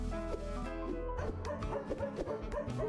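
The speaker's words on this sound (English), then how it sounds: "Oliver howled as hard as he could." A cartoon dog in the video game Majotori howls briefly over a busy musical soundtrack that plays throughout.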